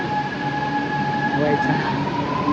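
A Chennai metro train moves along the track, a steady close rumble with sustained tonal whines from the motors, running evenly throughout the clip.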